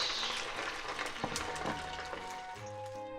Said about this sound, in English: I'm going to fry like this for about 2 to 3 minutes.